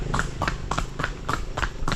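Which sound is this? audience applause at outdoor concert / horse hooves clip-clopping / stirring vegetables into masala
horse hooves clip-clopping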